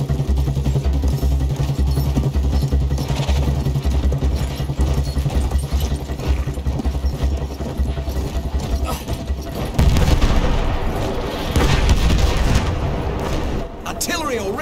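Artillery fire in the World War I shooter Battlefield 1 crashes in as loud, close booms and rumbling blasts over a heavy, droning background, with a sudden powerful burst near the end.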